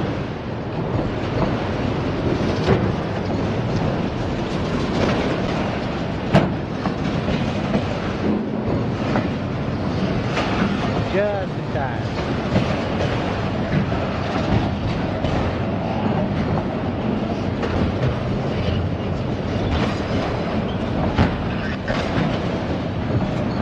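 A freight train rolls through Bevier St. Yard, a long continuous rumble with rhythmic clickety-clack from the wheels, occasional squeals and clanks, steady and fairly close throughout, with a person talking at times.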